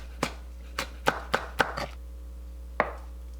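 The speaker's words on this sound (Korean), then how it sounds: "청양고추 3개 썰어주세요." A kitchen knife chops three Cheongyang chili peppers on a cutting board, giving a handful of crisp, irregular taps close by, five in quick succession and one more after a pause.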